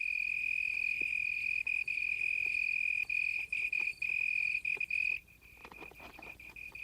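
A cricket chirps steadily on a leaf at night, a loud, continuous high trill broken by brief gaps; near the end the trill fades and a softer patter of insect sounds takes over.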